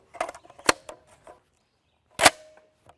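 Gunshots striking a Level III+ universal armor plate on a range, two sharp loud cracks with a clear ringing tone after each, the first reports bunched near the start and a second strong impact later, no talking.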